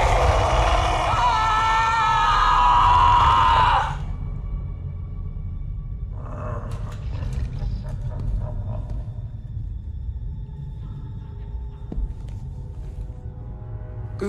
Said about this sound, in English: I said, scream.